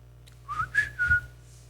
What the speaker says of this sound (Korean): 휘파람 한번 불러보십시오